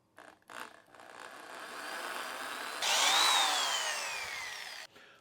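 A 7/32 drill bit boring a hole while mounting LED light bars, a steady whirring drill sound that builds, then rises in pitch and loudness near the end before cutting off, heard alone with no talk.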